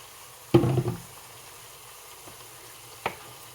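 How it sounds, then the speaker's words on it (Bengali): Hot water poured from a kettle into a pot of frying khichuri rice makes a sudden loud hissing sizzle lasting about half a second, followed by quiet and one small knock a few seconds later. "খিচুড়িতে আমি এখন গরম পানি ঢেলে দিচ্ছি"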